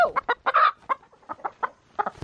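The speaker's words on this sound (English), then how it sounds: "Okay, we caught one. We caught a chicken." Chicken clucking in short, agitated bursts while being caught by hand, close and fairly loud, with a louder squawk early on.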